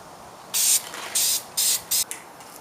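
Spray paint hissing onto a Jeep front bumper in a few test passes: four short, sharp bursts of close, loud spray separated by brief pauses.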